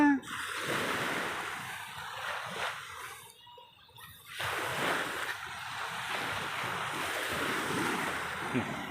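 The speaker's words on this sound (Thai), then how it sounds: "ทะเลตอนกลางคืนครับ" Sea waves at night by a resort shore, heard as a continuous surf wash with wind buffeting the microphone, dipping briefly before rising again.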